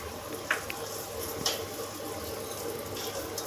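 Curry leaves dropped into hot oil for hotel-style shavige uppittu, sizzling and crackling softly and steadily with a couple of brief pops.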